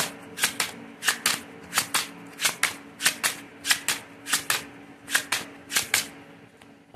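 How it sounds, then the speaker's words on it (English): Playing cards riffle-shuffled repeatedly, a rhythmic series of crisp fluttering bursts roughly every half second, close up with no talking. "I done shuffled so many times."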